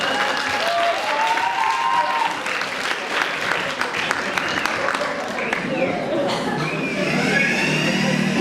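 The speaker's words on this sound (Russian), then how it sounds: "Команда Кубин Панда под ваши громкие аплодисменты." A student KVN comedy contest audience at a university cup breaks into sustained applause for a team, a continuous wash of clapping from a hall crowd with voices mixed underneath.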